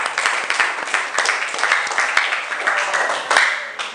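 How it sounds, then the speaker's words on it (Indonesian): Applause from a seated group after a presentation at an Indonesian teacher-training session, a few seconds of brisk, uneven hand claps with individual sharp claps standing out over the steady patter. "Ya bagus, aplaus ya"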